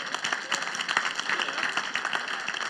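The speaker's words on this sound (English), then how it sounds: "That you can applaud for." A church congregation applauding during a sermon: soft, steady clapping from many hands, fairly quiet and distant-sounding, with a faint voice mixed in.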